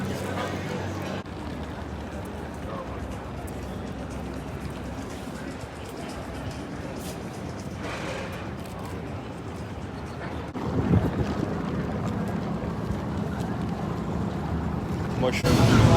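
Ride aboard Lisbon's tram 28, a constant roar of wind buffeting the microphone with rumbling motion underneath, growing louder toward the end, while people talk over it.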